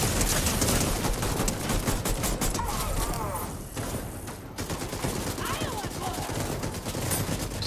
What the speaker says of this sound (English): Now there's somebody else shooting at me.